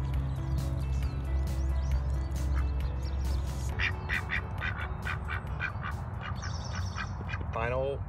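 Ducks kept in a garden with bearded irises, several quacks and honks rising over a steady low outdoor rumble, clustered mostly in the second half.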